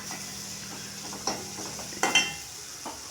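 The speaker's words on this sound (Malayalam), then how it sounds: "എന്നിട്ട് ഇതിൻ്റെ നല്ല കൂടിയിട്ടൊക്കെ പച്ചമണം മാറുന്ന വരയ്ക്ക് ഒന്ന് ഇളക്കി കൊടുക്കുക" Spices and salt are stirred in a pan for pasta, giving a quiet background sizzle with a few sharp scraping strokes of a spoon, the loudest near the middle, no talking.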